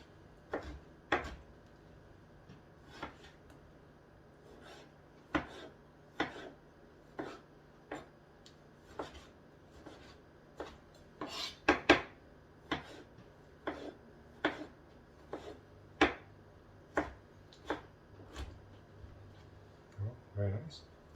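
A knife slices tomatoes and onions on a cutting board with soft, evenly spaced taps, roughly one per second, each board knock quiet and close.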